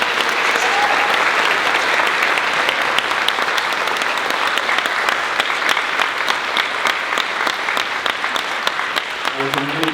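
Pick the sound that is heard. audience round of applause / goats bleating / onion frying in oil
audience round of applause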